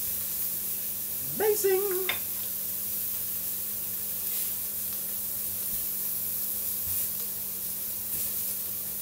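Beef for boeuf bourguignon browns in a hot pan, giving a steady, even sizzling hiss that runs unbroken the whole time, with one short spoken exclamation near the start.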